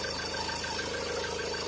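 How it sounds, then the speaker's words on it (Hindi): A Mahindra Scorpio engine with a missing bolt runs with the accelerator pressed, giving a steady, close, continuous drone with a fast rhythmic ticking throughout. "एक्सीलेटर लीजिए। आवाज आ रहा है, देख रहे हैं आवाज आ रहा है।"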